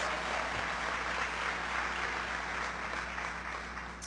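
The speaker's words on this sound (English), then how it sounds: "give Congressman Watt a big round of applause" Steady applause from a crowd, a dense wash of clapping that holds evenly throughout and fades slightly at the end.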